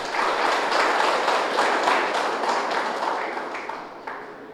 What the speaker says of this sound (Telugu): అద్భుతంగా నిర్మించబడినటువంటి సదానంద పిరమిడ్కి గట్టిగా క్లాప్స్ కొడదాం